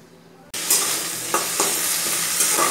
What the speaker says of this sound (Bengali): আলু আর পেঁয়াজটা একবারে দিয়ে দিয়েছি, ভালো করে ভাজা হয়ে নে